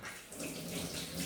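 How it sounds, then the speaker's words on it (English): Water from a kitchen tap splashes over hands being washed, a soft, steady running hiss at close range, faint and without talk. "Let me just wash my hands."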